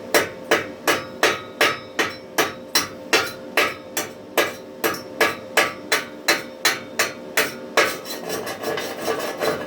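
A hammer knocks slag off a fresh weld on strongman farmer's walk handles made with Hilco welding rods: about twenty sharp metallic blows in a steady, fairly quick rhythm, close and loud, then rattling scraping.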